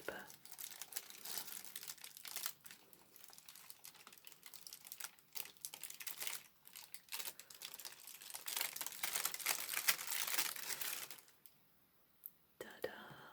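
Tissue paper around a new handbag crinkles and rustles near the microphone in long, soft, continuous waves, then drops away into near silence before a few last light crinkles near the end.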